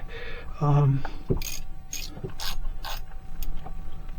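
Ratchet clicking as it snugs bolts on an aluminum cast valve cover in a diagonal cross pattern, a short burst of close mechanical ratcheting followed by softer clinks and handling noises.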